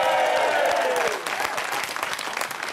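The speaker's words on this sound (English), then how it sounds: "Give a big round of applause." Studio audience applause on a TV talk show, a full burst of clapping with a voice briefly heard over it at the start, thinning somewhat as it continues.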